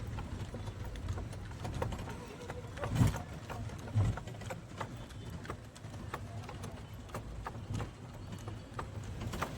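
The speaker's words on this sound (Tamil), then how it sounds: "பழனி பஸ் ஸ்டாண்டுக்குள்ளே குதிரை வண்டியில் ட்ராவல் பண்ணிகிட்டு இருக்கோம்" A horse-drawn cart travels through the Palani bus stand, its hooves clip-clopping steadily over a busy background of traffic and crowd noise.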